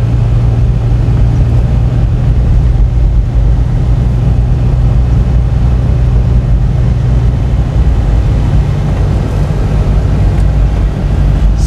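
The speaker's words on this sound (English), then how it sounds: "So we're having some bumpy ride right now" A vehicle rides over a bumpy rural road in Manchester, Jamaica, with a steady loud low engine drone and road rumble throughout and no talk.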